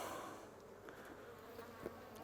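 Honey bees buzz steadily at an open hive during an inspection, a dense continuous drone close by with a few individual bees passing near, no voices.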